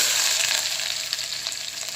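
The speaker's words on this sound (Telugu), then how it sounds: "ఇది గోల్డెన్ బ్రౌన్ కలర్లో వచ్చేంత వరకు ఫ్రై చేసుకుందాము" A large sliced onion fries in hot oil with cloves and cardamom for a mutton curry, a steady, bright sizzle with light crackles and soft stirring scrapes.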